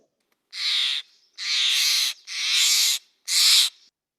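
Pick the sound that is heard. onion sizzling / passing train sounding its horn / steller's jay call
steller's jay call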